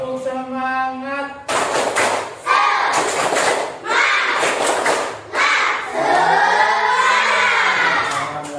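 A class of children claps and chants together in a classroom, with rhythmic group clapping and loud shouted voices in unison, led by a teacher's call at the start.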